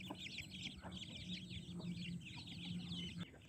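Soft, repeated clucking of a hen close by, low rhythmic calls over a background of higher bird chatter.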